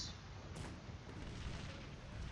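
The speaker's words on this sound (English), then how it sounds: "let's give our cannons a chance to destroy enemy troops" Continuous booming cannon and artillery fire from a Cossacks 3 battle, a dense low rumble of overlapping blasts that stays loud and steady throughout without a pause.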